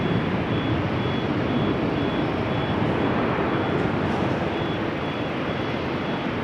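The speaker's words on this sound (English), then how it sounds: "That would be this A330 getting pushed back." Rainy airport apron at Amsterdam Schiphol as an Airbus A330 is pushed back, heard as a steady broadband engine and tug rumble with a faint continuous high whine, even in level and uninterrupted throughout.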